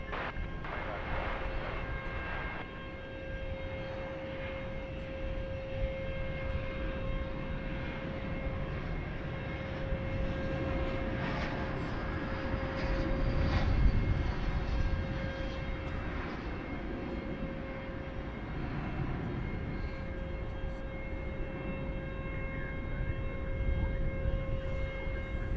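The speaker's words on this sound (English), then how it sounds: "It's an Airbus A380 from the year 2000, and it is going to Tulsa" An American Airlines Airbus jet bound for Tulsa, heard at night at DFW Airport, makes a distant, steady engine rumble with a sustained whine tone. The roar swells gently in the middle and carries on evenly, with no voices.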